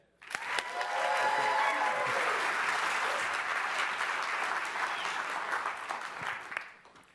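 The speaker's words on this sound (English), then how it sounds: "Give big claps to Adrian Torabarte, founder and CEO of Fitcheck." Sustained audience applause at an SMU accelerator demo day as a founder takes the stage, a dense wash of clapping that swells quickly, holds steady for several seconds and fades toward the end.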